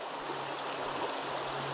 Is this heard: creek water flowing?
yes